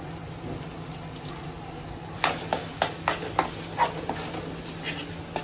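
Garlic-ginger and coriander paste hits hot oil and sizzles steadily, with a run of sharp spoon-scraping clicks and stirring strokes in the middle, close and fairly loud, during chicken curry cooking.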